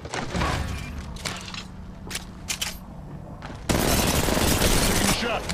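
Apex Legends Mobile game gunfire, scattered shots and thuds that give way to a loud, sustained burst of firing in the final seconds, with game voice lines mixed in.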